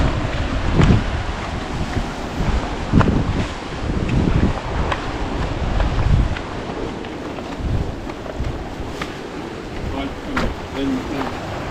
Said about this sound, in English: we are down on the beach now